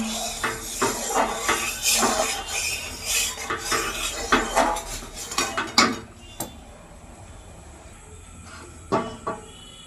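A pot of sugar syrup flavored with crushed cardamom is set down on a kitchen counter, with utensils clattering and clinking in several bursts before things go mostly quiet, followed by a couple of late metallic knocks.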